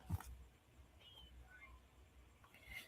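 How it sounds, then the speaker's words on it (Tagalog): A pet cat lets out a short meow right at the start, fairly close and brief, followed by quiet room background with a few faint higher-pitched squeaks. "Yung mga pusa ko guys."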